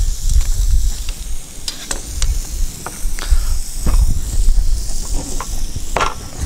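Onions sizzle in lightly browned butter, a steady frying hiss with scattered crackles and scraping stirs throughout, close and fairly loud with no talking.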